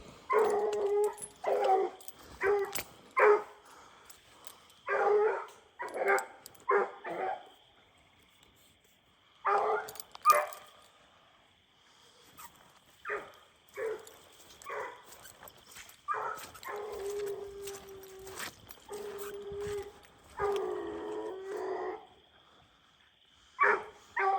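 A hunting dog bays and barks steadily in the night woods, a long run of repeated barks with a few drawn-out howling notes, fairly close and alone without talk.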